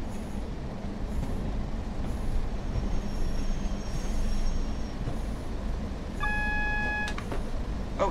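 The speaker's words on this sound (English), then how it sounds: "There's a double-headed 101 coming in." A double-headed Class 101 diesel unit arrives in a train simulator game set on the West Coast Main Line between Preston and Carlisle. A steady rumble of rail running fills the clip, with brief tonal squeals and beeps near the end.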